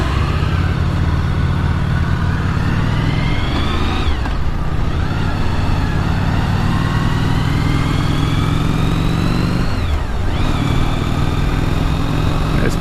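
Motorcycles ridden together on a highway, a loud steady engine drone with wind rush from onboard, engine pitch climbing through gear changes, without talk.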